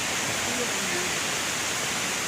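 Tad Kuang Si waterfall in Luang Prabang, Laos, gives a steady, dense rushing roar of falling water that fills the whole moment without pause.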